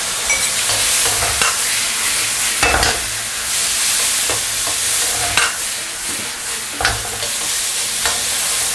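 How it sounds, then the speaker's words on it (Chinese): A seafood dish is stir-fried over maximum heat, with a loud, dense sizzle and repeated clanks and scrapes of the spatula tossing food in the wok. "好，最大火去炒它。"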